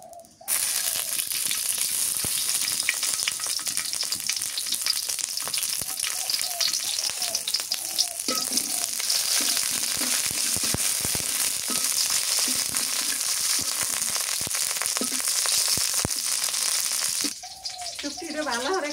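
Raw mustard oil fries loudly in a pan in a village kitchen, a dense, continuous crackling sizzle that holds steady for most of the stretch before easing off near the end.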